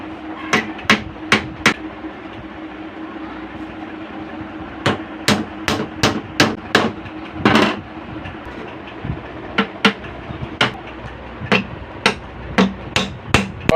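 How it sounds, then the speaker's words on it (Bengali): Nails are hammered into plywood by hand in sharp, close blows, coming in quick clusters separated by short pauses, with a low steady hum underneath. "ওই চার কোনা চারটে পেরেক লাগিয়ে নেওয়া হলো"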